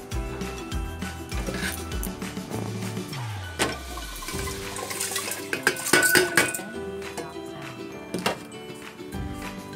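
Lentils rinsed in water inside a metal pot in a home kitchen, with clattering pot and utensil clinks, sloshing water and scraping, busy and close throughout with louder clanks in the middle.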